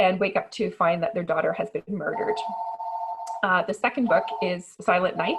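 A phone rings partway through a person's talk: a steady electronic tone holds for about a second and a half, then the voice resumes.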